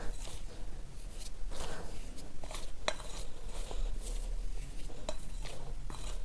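Homemade fish bait dough being mixed by hand in a bowl, heard as close, quiet squelching and rubbing with scattered clicks and knocks against the bowl, uneven in rhythm, with no one talking.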